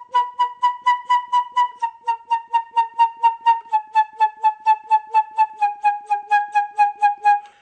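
Flute-like tone played as a steady run of about twenty separate short notes, each started by throat pulses rather than the tongue, holding a steady pitch that slowly sags slightly, clear and fairly loud with no talking.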